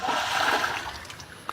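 A 1 kg plastic bottle of soybean oil hits a river with a splash, a brief rushing wash of water that fades into gentle lapping, followed by a small sharp knock near the end.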